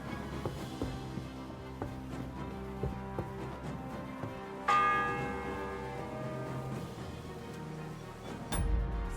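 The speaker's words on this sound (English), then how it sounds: "Seventh bell." A church bell tolls in the medieval game Kingdom Come: Deliverance II, its ringing strikes repeating steadily with a louder fresh strike midway that rings out and slowly decays, over faint ambient game sound.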